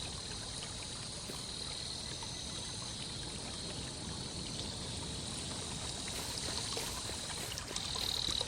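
Steady, soft trickling and sprinkling water runs through the whole stretch as an old lady waters her plants by a farmhouse in a video game, a faint high whine sitting over it.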